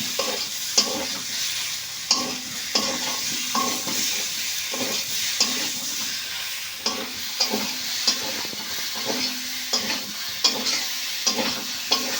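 Boiled potatoes being stirred and fried with spices in a pan, Bengali village-style cooking, with a steady sizzle and repeated scraping strokes of a spoon against the pan, close and loud, no talking.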